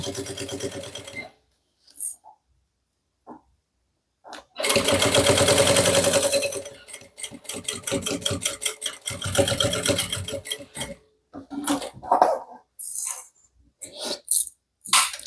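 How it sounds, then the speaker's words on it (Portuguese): An industrial straight-stitch sewing machine, fitted with a size 18 needle, stitches a fabric bag with a bag strap in loud bursts of rapid mechanical whirring, separated by short pauses and small clicks. "Para costurar esse Montana Colors aqui na reta industrial."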